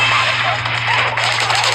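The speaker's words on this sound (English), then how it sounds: "Launch forward using the explosion from a bomb." Dash bomb blast from the Splatoon Raiders video game, a rapid crackling burst of game effects over a steady low hum, loud and continuous for under two seconds.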